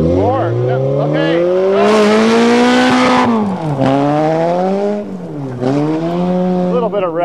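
A manual Toyota car engine revs hard, climbing and bouncing against the rev limiter in repeated surges, loud and close, with faint tire squeal and voices in the background.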